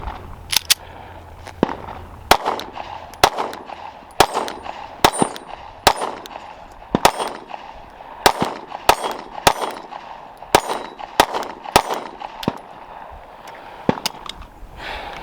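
Sig P365 pistol fired repeatedly at steel targets outdoors, a long string of sharp loud shots at an irregular steady pace, each followed by a ringing metallic clang from the plates.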